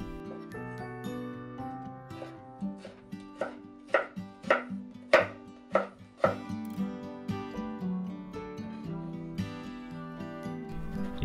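A knife chops a cucumber into thin rounds for spring rolls, a quick run of sharp, evenly spaced cuts on a board over steady background music.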